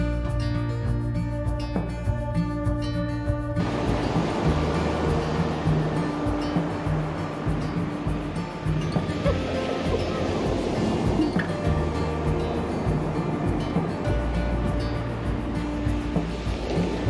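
Sea waves wash onto the sandy beach at Brunswick Bay on the Yorkshire coast, a steady loud roar of surf with music playing over it at the start.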